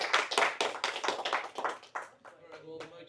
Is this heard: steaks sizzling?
no